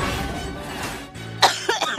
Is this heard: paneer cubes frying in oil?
no